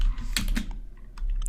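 Quick clacking keystrokes on a computer keyboard while entering a database query, a short burst of a few close taps followed by a pause and then a couple more.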